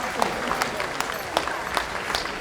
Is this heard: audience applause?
yes